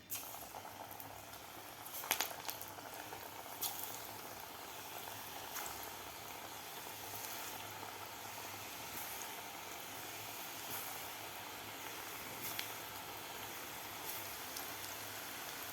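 Bhaji fritters in gram-flour batter deep-fry in hot oil, giving a continuous bubbling hiss with a few brief crackles, fairly faint and steady throughout.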